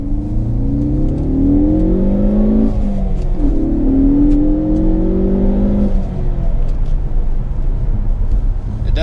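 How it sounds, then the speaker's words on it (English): Heard from inside the cabin, a 2016 Ford Focus ST in ST3 Recaro trim revs loudly with its sound enhancement, pitch rising in two sweeping climbs before settling into a steady drone. "Because the Ford Focus ST does sound very good from the interior, and that is all because of sound enhancements."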